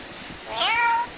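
A single short, rising-then-falling meow from a cat, heard close and clear against a quiet background.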